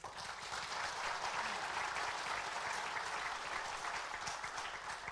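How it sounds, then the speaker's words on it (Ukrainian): A large hall crowd at a political party congress applauds steadily, dense continuous clapping that holds at an even level for several seconds. "Тут можна аплодувати."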